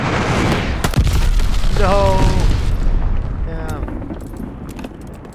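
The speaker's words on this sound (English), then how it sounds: "Allied glide bomb on the way." Allied glide bomb explosions in Call of Duty: Vanguard multiplayer: loud booming blasts and rumbling debris over battle noise, with a brief spoken word and some radio-style voice chatter.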